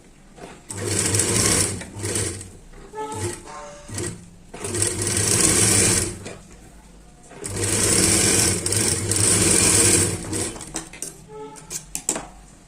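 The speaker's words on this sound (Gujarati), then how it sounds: "તો હવે આપણે આ ભાગમાં પણ સિલાઈ કરી લઈશું" Sewing machine stitching a Bombay katori blouse, running in several loud bursts of rapid whirring separated by brief pauses and small handling clicks, with no talking.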